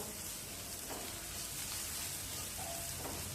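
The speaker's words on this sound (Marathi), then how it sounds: "तर या इथं मी कांदा आता परतून घेत आहे" Onion with a little salt sizzles softly in a pan, a faint, continuous crackle with occasional small pops and light stirring scrapes, no voices.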